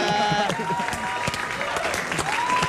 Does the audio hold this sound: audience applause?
yes